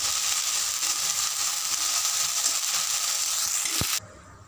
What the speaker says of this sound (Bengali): এবার এই আদা বাটার মধ্যে দিয়ে দেবো কেটে রাখা শিউলি পাতা, দিয়ে এটাকে ভেজে নেব।